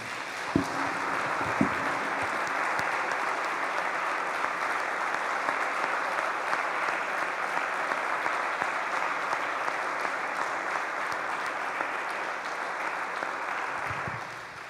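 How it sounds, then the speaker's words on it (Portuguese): A large church congregation applauding steadily, a dense sustained roar of clapping that holds for many seconds with a few louder claps early on. "eu quero que você dê uma grande salva de palmas a Jesus por esse testemunho."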